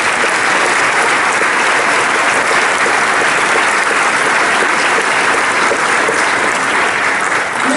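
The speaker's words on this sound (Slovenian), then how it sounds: "Namenimo zdaj še en aplavz menedžerju ansamblu" Premiere theatre audience at the close of the musical 'Lepo je biti muzikant' giving loud, dense sustained applause that holds steady throughout.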